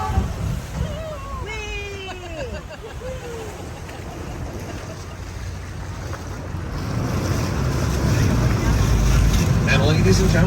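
An amphibious duck tour vehicle on a Boston city tour drives into the water, wind buffeting the microphone and a rushing wash of water building louder toward the end, with voices and a few bird-like calls early on.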